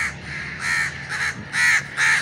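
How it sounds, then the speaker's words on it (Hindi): Several crows caw loudly and close by in the morning sun, four or five harsh drawn-out calls in quick succession with short gaps, no voices over them. "सारे कौवे मेरे पीछे तो नहीं चढ़ गए लगता है मेरे पीछे ही आ गए"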